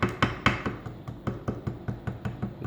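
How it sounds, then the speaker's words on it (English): A ball peen hammer taps gently on gasket paper laid over a part's holes, giving a close, even run of about a dozen light knocks at a quick, regular pace. "Take a ball peen hammer, and where there's a hole,"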